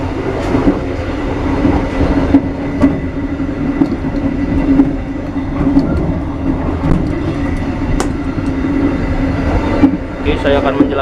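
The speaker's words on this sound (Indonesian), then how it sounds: "Keretanya tiba di stasiun Walikubun, teman-teman." The KA 110 Brantas economy-class passenger train arrives at a station late at night, heard from on board as a loud continuous rumble with wheel clatter, occasional brake squeals and faint background voices.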